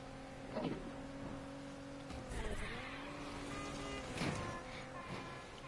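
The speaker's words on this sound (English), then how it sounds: "this car sounds so quiet in this game" A quiet twin-turbo inline-six car engine in Need for Speed Unbound hums steadily, its pitch dipping and rising with gear changes, alongside occasional faint tire squeals.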